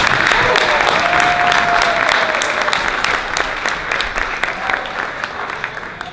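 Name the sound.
wedding guests applauding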